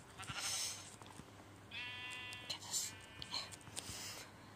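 A sheep bleats in a crafting-and-building video game: a single wavering bleat of about a second over a soft, steady background hum, with faint game sounds around it.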